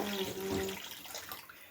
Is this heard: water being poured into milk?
yes